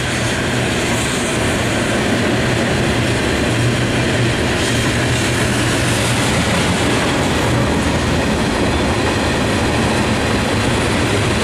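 A freight train with boxcars rolls past at a slow pace, a steady, dense rumble of wheels and clattering cars lasting throughout, loud and continuous with a low droning hum underneath.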